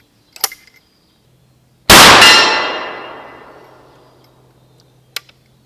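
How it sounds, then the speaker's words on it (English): A black powder bullet cast from a Smith Carbine mold strikes a steel target with one loud, ringing clang that decays slowly over a few seconds. Faint distant shots or ticks sound before and after it. "I'm going to throw it at steel."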